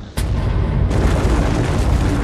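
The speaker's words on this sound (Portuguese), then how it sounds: "quando acontece fazem kabum! E explodem em 1000 pedaços" Supernova explosion sound effect: a sudden loud boom that swells into a sustained, dense roaring rumble, with a brief quieter lull before the full blast.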